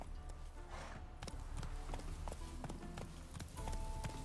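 Roach the horse galloping in the video game Witcher 3, with fast rhythmic hoofbeats over a rumbling game backdrop and a brief whoosh partway through.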